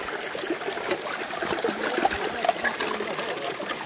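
Creek water running past a sluice at an Arizona gold-prospecting site, a steady close trickle and babble with small splashes throughout, no voices over it.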